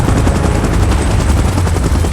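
A helicopter in the PUBG video game, a loud, continuous, dense rotor roar with a fast pulsing chop throughout.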